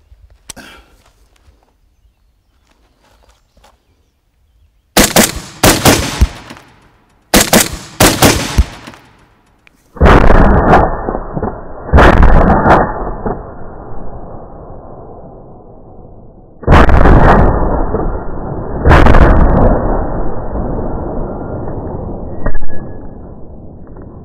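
A suppressed 300 Blackout rifle with a 10.5 inch barrel fires several sharp, close shots, some in quick pairs, each with a brief ringing decay, separated by quiet gaps and handling noise.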